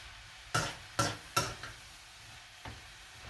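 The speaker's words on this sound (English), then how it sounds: "So keep stirring so they don't burn to the bottom of the pan" Food being stirred in a pan with a few sharp scrapes and knocks of a utensil against the metal, three quick ones then a softer one, over a low background hiss.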